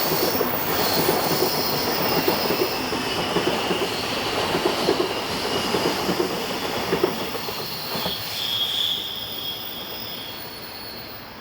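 A Swiss passenger train from Basel to Locarno passes on the Gotthard north ramp, its wagons rumbling steadily with wheels squealing and faint clickety-clack, loud and continuous with a high hiss layered above.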